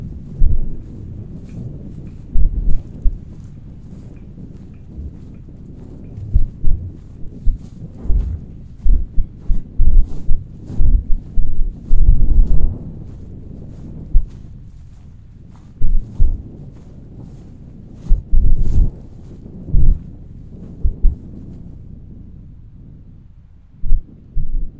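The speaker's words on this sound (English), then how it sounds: "the wind's blowing and I hope it's not messing with the sound" Outdoor wind buffeting a microphone on a hot summer day, heavy low rumbling gusts coming in irregular bursts and thumps that fill most of the stretch, with no voices over it.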